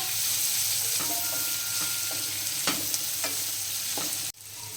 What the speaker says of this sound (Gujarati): હવે આપણે ઓનિયન મિક્સ કરી દઈશું.